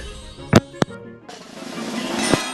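Two sharp blasts go off in a Tom and Jerry video game, followed by a swelling rumble of debris and noise.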